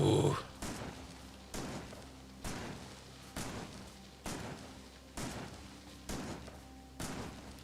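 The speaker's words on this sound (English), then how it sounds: "Plasma fire turrets." Plasma fire turrets in a modded video game shooting in a steady rhythm, about eight evenly spaced sharp blasts, fairly loud and close with no talk over them.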